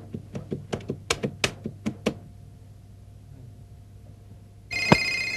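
Rapid clicks of a hotel-room telephone being dialed for a long-distance call, about a dozen sharp taps in a burst, then quiet before a louder line tone starts near the end.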